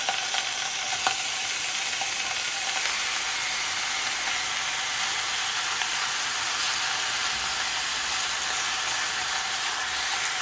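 Bacon cooks in a dry pan with no oil over a low flame, giving a continuous bright crackling sizzle, close and even, with faint scattered pops and no voices.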